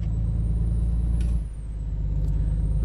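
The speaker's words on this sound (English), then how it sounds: "Listen to that when we hit the brakes there." Kenworth T800 truck in Euro Truck Simulator 2 braking, a steady loud low engine drone with a brief air-brake hiss around the midpoint, no talk.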